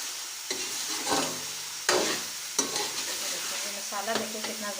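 Chicken masala with green chili being fried and stirred in a pan, a steady sizzle broken by repeated scraping strokes of a spoon, close and fairly loud with no talking.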